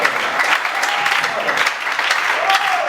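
A church audience at a prophetic prayer gathering breaks into loud, sustained applause and cheering, a dense wash of clapping with voices rising through it and one or two whistles, filling the whole stretch without pause.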